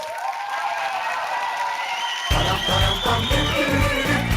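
Audience applause for comedian Hakan Türkmen fills a stage show: steady clapping at first, then from mid-clip a louder burst of cheering, whoops and crowd noise swells over it, continuous to the end.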